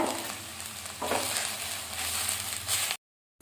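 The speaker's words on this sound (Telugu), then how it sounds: "ఈ మునగాకు చక్కగా వేగింది." Moringa leaves with a few curry leaves dry-roasting in a pan give a close, steady crackling sizzle with a brief stirring surge, then the sound cuts off abruptly.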